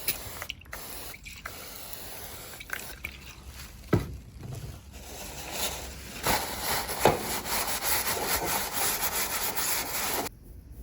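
Hand sanding corrosion off the brake lining of a 1968 Norton Commando, irregular raspy rubbing strokes with short pauses, close and moderately quiet.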